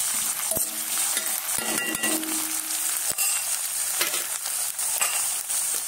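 Onion fries with ginger, garlic and chilli paste in a hot pan, giving a loud, bright, continuous sizzle with a few sharp scrapes and taps from stirring.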